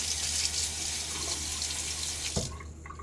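Safety razor rinsed under a running bathroom tap: a steady close hiss of water that cuts off abruptly near the end with a brief clack, then near quiet.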